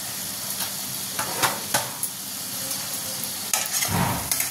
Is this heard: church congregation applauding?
no